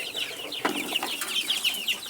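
Chicks on a small poultry farm cheep and cluck in a quiet, busy chorus of short, rapid peeps, with a few louder calls close by.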